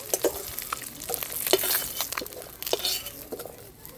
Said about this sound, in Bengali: মাছটা খুব সুন্দর করে বাদামি কালার করে আমি কষিয়ে নিয়েছি